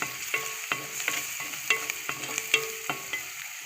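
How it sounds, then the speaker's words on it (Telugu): Onions frying in a pan, a steady sizzle broken by regular scraping clicks of a spoon stirring, close and fairly loud with no talking. "ఇంకొంచెం కలర్ రానిద్దాం ఉల్లిపాయలు వేగిపోతున్నాయండి"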